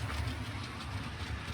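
A model railway train runs along the track, a steady low rumble with faint rhythmic clicking, close and continuous with no voices.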